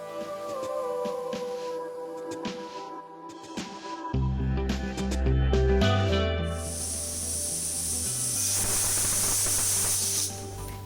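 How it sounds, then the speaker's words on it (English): A pressure cooker on a high flame releases steam in a steady, bright hiss that starts partway through and continues to the end over background music. "Now close the lid and place the cooker on a high flame"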